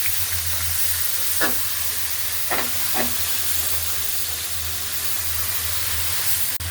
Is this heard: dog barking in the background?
no